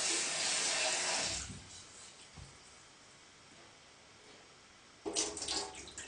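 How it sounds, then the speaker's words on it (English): Rice being washed under a running tap: a loud gush of water into a bowl for about a second and a half, then quiet rinsing sounds, and the tap running again near the end. "let's just wash the rice as normal"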